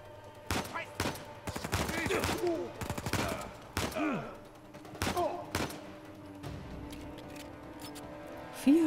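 Bursts of rapid machine-gun fire crack out in several volleys in Uncharted 4, with quieter gaps and background noise between them.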